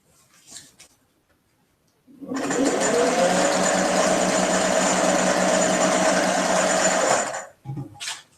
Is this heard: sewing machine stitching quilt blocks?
yes